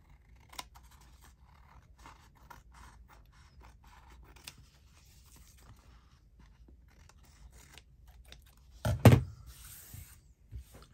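Scissors trimming paper craft pieces for a journal make faint, sparse snips and soft paper rustles at close range, followed near the end by a louder, brief cluster of crisp cutting and scraping.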